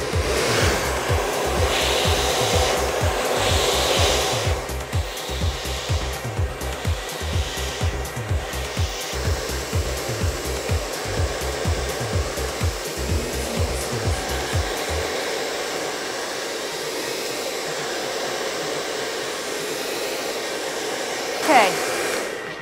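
A Tony and Guy Super Solano hair dryer blows hair dry with a paddle brush, a loud steady whooshing motor hum close up that pulses rhythmically in the first part, then runs smoothly on.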